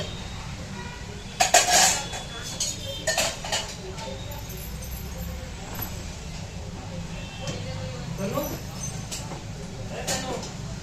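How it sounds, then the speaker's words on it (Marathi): Pots and pans clank and clink as they are set out in a home kitchen before cooking a masala, a few loud metallic knocks early on followed by scattered softer clatters, with a voice speaking quietly in the background. "भांडे लावून घेते थोडेसे"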